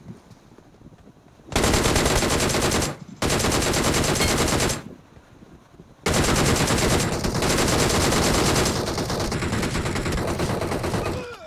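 Loud automatic gunfire in a BGMI last-zone fight: a sustained burst, a short gap, a second burst, then a long unbroken stretch of rapid shots to the end.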